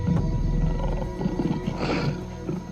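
A wild lion in African bush roars at close range, a deep rumbling growl swelling in the middle of the clip over low ambient noise.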